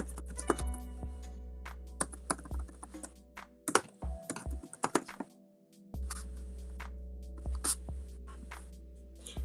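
Close, uneven clicks of typing on a laptop keyboard come in short bursts and scattered taps over a low electrical hum, with brief pauses between runs.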